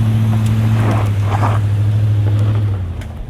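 A 2020 Toyota Sequoia TRD Pro SUV passes by, its engine drone and tire rush loud and near, then fading with wind noise as it moves off.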